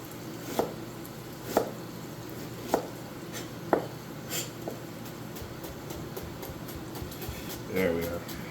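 A knife chops the other half of an onion on a cutting board: four crisp, evenly spaced chops about a second apart, then a few fainter cuts, close and clear in a quiet kitchen.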